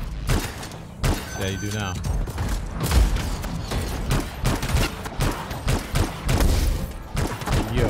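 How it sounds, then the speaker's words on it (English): A stunning shotgun fires repeatedly in the video game Anthem, delivering punchy blasts amid dense combat noise while someone talks over the action. "Okay, it's a shotgun. It's stunning me. It's a stunning shotgun."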